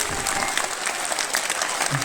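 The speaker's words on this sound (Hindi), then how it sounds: "आसमान में हाथ उठकर तालियों की गड़गड़ाहट हो रही है आपकी।" Audience applause with hands raised at a Hindi poetry recital, a dense, steady clatter of many clapping hands filling the room, loud and continuous throughout.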